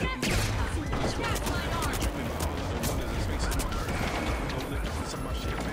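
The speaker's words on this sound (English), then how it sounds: "I'm being shot" Continuous rapid gunfire and crashing impacts in The Finals, loud and dense throughout.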